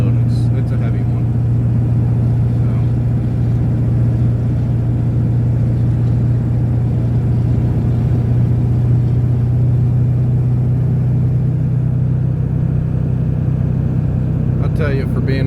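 An old truck heavily loaded with topsoil drives along, its engine a steady low rumble with continuous road noise throughout, close and fairly loud, with a faint voice briefly near the start.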